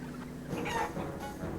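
Chickens clucking and squawking in the Wallace and Gromit video game, a close, busy cluster of agitated fowl calls over a steady background.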